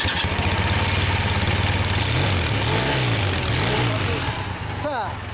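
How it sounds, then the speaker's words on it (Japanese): A 1974 Suzuki GT750L motorcycle engine idles close by with a steady, chugging putter, briefly blipping the throttle a few times before easing off near the end. "エンジン音聞かせてもらえますか？"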